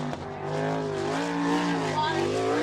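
Sprint-style race car engine at the Attica, Ohio All Star Circuit of Champions, car number 3 on a qualifying lap, droning loud and steady with rising and falling pitch, a faint voice under it.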